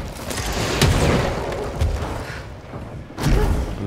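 Bombs burst close by in the game Control, heavy booming thuds with rumbling noise, one around the first second and another near the end, over a continuous loud background.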